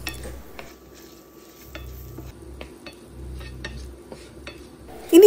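Beans with turmeric powder sautéing in a pan for a Kerala beans mezhukkupuratti, with soft scraping stirs and light clinks against the pan over a low, steady background, no voices.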